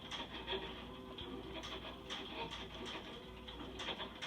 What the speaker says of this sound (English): I'm literally just dabbing it on, not putting too much pressure, just enough to kind of touch the surface of the fabric